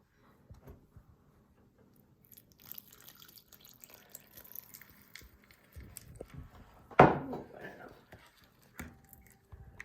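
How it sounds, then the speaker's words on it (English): Water is tipped into a container of bare soil with no grass for a soil erosion test, giving one brief splashing pour late in the clip amid light knocks and faint room noise. "Now we'll pour it into the container with no grass at all."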